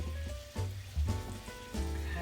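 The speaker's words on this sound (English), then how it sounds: "Now my pan's already starting to sizzle because I got it on high." A pan on high heat sizzles softly, a fine hissing crackle with a few brief louder spurts, heard fairly close and quiet.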